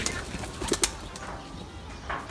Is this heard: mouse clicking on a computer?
no